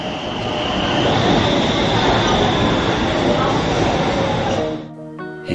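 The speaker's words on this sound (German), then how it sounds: "Die U-Bahn bringt uns problemlos zurück nach Peding." Stockholm subway train riding along, a loud steady rumble of wheels and carriage noise filling nearly five seconds before dropping away near the end, with faint talk in the background.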